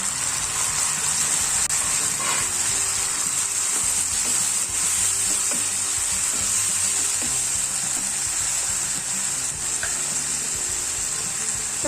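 Onions and medium tomatoes sizzling in a pan while cooking a masala curry, a steady bright hiss with faint stirring clicks, continuous and close, no voices.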